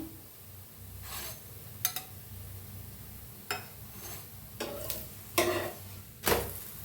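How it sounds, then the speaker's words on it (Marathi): Puran poli roasts in ghee on a hot pan, a low continuous sizzle broken by several crisp scraping and clinking strokes of a spatula, close and clear with no talking. "छान असं भाजून घेऊया आपण. मस्त असं तूप लावून घेऊया दोन्ही साईडनी."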